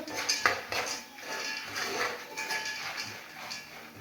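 Popcorn kernels pop inside a pot with spooned-in seasoning and no salt, giving irregular bursts of sharp pops and hard clattering against the metal, fairly close and steady throughout.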